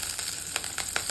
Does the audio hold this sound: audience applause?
no